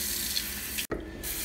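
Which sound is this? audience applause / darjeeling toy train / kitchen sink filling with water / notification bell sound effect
kitchen sink filling with water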